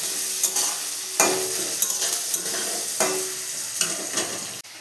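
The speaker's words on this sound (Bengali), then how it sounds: "এবার আমি পেঁয়াজ কুচি দিয়ে দেবো, দিয়ে ভালো করে পেঁয়াজটাকেও ভেজে নেব।" Chopped onions fry in a pan after potatoes, a constant soft sizzle broken by several sharp scraping stirs spaced about a second apart, close up with no talking.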